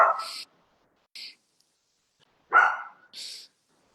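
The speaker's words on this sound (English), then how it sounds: "Little Snowflake, the dog, is pitching in on the prayer and the meditation" A dog barks in a quiet room during a meditation session, giving two pairs of short, sharp barks separated by silence, fairly close and not masked by any talk.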